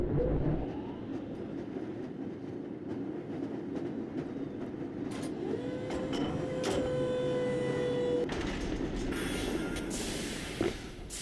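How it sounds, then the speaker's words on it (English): A lever-controlled tram in the Black Mesa game rolls along its track with a steady mechanical rumble and rattling clicks, a sustained whine rising midway and a sharp hiss near the end. "This lever-controlled train will transport you to a location where your training associates are waiting for you"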